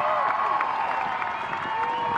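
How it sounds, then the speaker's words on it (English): A large outdoor crowd applauds parachute jumpers at a fireworks air show, a steady wash of clapping and cheering held at an even level throughout. "Let's give these jumpers a loud round of applause."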